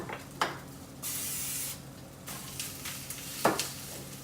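Food frying in a pan gives a quiet sizzle, with a couple of sharp utensil clacks and a long hissing burst in the middle as ingredients are added and moved around.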